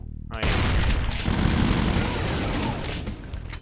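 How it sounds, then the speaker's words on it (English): Explosions in the video game Doom, a dense rolling barrage of booms and blasts that erupts after a short quiet start and keeps roaring loudly to the end. "Those explosions are way bigger than their splash."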